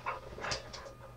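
A playful dog nearby gives soft whimpers and breathy panting in a short, continuous burst over a steady low hum, with no one speaking.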